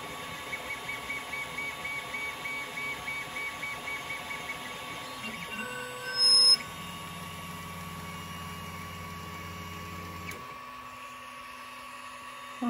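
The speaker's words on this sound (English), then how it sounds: "So I'll print these out now and see how these work." A 3D printer printing coupler supports for an HO scale model, stepper motors whirring and pulsing in a rhythmic pattern, then shifting to a steadier, louder hum partway through.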